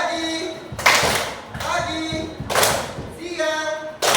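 Sharp hand claps in a group clapping game come in quick bursts between chanted or spoken words, a few loud claps at a time with short pauses, close and bright.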